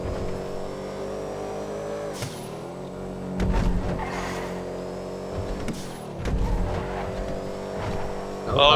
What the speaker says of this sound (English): Going sideways. Sideways, make it sideways.